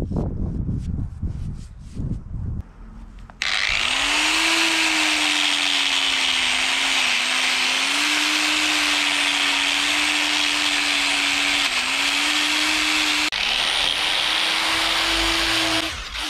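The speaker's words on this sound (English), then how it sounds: "the paint can be easily removed with an angle grinder" Angle grinder stripping paint from a metal refrigerator compressor: a loud, sustained high whine that starts abruptly after a few quieter knocks, holds steady with slight pitch dips, and briefly cuts out before resuming.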